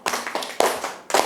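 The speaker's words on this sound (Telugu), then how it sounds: "చప్పట్లు కొట్టండి." Children clap their hands in a classroom-style lesson, three sharp bursts of claps in quick succession, close and fairly loud.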